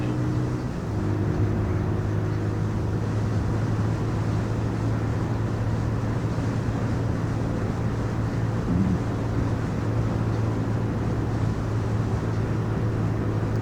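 A brand-new Bullit Hunt S 125cc motorcycle riding at about 50 mph gives a steady engine drone with strong wind rush, continuous and loud with no pauses.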